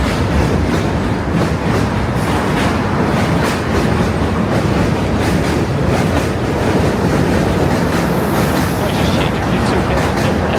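A New York City N subway train thunders across a bridge close by, loud and continuous, its wheels clacking rhythmically over the rails with a metallic rattle.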